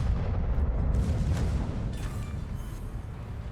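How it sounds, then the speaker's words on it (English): A battleship explodes in a naval combat game: a deep, sustained rumbling blast, loud at first and then slowly fading into a low roar, with no voices over it. "Enemy battleship destroyed."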